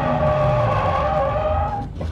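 A Toyota 86 drifts on a track during a drift lesson, its engine droning loud and close while the tires screech in one continuous skid that fades slightly at the end.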